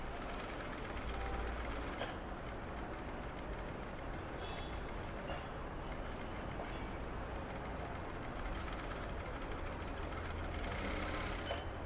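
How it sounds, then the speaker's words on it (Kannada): Sewing machine stitching a child's designer blouse for an eight-year-old, running steadily and fairly close throughout, with a brief pause in the motor rhythm before it resumes. "ಇನ್ನೊಂದು ಸ್ಟಿಚ್ಚನ್ನು ನೀಟಾಗಿ ಹಾಕ್ಕೊಂಬಿಡ್ತೀನಿ"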